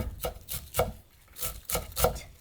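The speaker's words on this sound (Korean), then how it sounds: "그리고 총총총총 썰 거예요" Knife chopping wild chives (dallae) on a cutting board in quick, soft, evenly spaced taps, about eight strokes, close and quiet with no talk.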